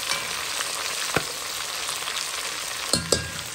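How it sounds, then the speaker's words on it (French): Onions sweating and frying in a pan for a Réunion-style chicken dish, a steady soft sizzle with a few sharp clinks or stirring knocks near the end, no voices. "Je laisse les oignons bien suer un peu là."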